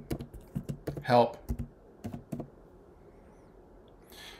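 Keys tapped on a computer keyboard while typing into a website search bar, a quick run of close, crisp clicks with a brief voice cutting in partway, then quiet.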